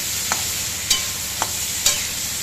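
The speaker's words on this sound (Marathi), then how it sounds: "आता याच्यात टोमॅटो टाकलं, ते परतून घेते." Tomatoes sauté in a pan for Maharashtrian masala rice, a low steady sizzle punctuated by four brief scrapes of a spoon against the pan, close and quiet without talking.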